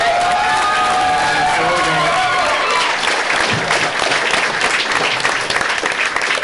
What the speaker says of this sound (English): let's get a little bit more of a head of applause for me